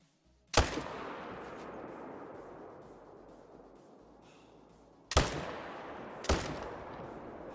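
Gunshots from a rifle in the Call of the Wild hunting video game: three sharp, loud cracks, each with a long rolling echo, the first standing alone and two more coming close together later, with no talking.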